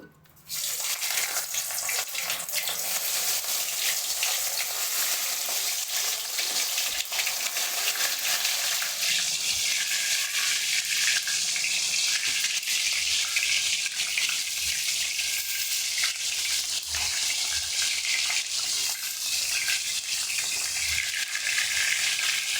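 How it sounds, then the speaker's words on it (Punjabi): Stuffed bell peppers fry in hot oil in a wok (kadai), giving a loud, steady broadband sizzle that starts abruptly and holds evenly for the whole stretch, with no voices. "ਤੇਲ ਗਰਮ ਹੋ ਚੁੱਕਾ ਹੈ ਜੀ ਹੁਣ ਆਪਾਂ ਇਹਦੇ ਵਿੱਚ ਸ਼ਿਮਲਾ ਮਿਰਚ ਪਾਵਾਂਗੇ"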